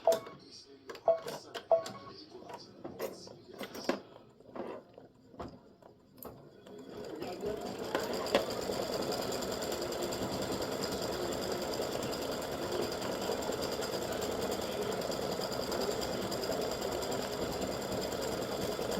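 Embroidery machine stitching a gnome's hat in baby blue thread on freestanding lace, preceded by scattered clicks and handling taps, then a continuous steady whirring run with fine rhythmic needle ticking.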